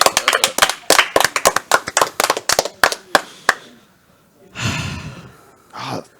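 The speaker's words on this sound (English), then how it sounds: "Oh, yeah, clapping." A burst of rapid hand claps from a few people, loud and close, fading out, followed by a couple of breathy exhalations.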